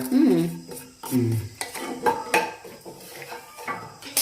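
Peanuts roasting in a kadai on a stove, stirred with clattering scrapes and metallic knocks against the pan in irregular bursts, close and moderately loud, with a voice heard faintly at times.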